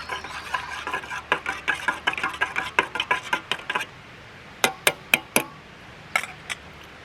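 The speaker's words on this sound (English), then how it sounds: "Get a little bit of the steak off because I need to stir my coffee" A piece of steak used to stir coffee in a cup, giving a quick run of light clinking taps against the cup, then a pause and a few sharper isolated clinks, close and alone.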